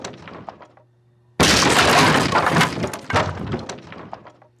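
Wooden objects splintering and crashing in a video game demo: a short quiet patch, then a sudden loud burst of breaking and clattering debris that trails off in scattered cracks and thuds.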